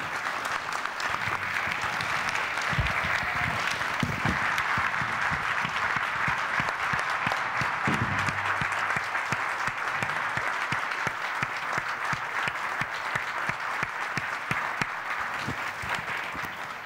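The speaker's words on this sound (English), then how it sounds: "Give her a big applause" Audience at a mayors' forum applauding a woman who stands up, a long sustained wave of clapping that fills the hall evenly for many seconds with little talk.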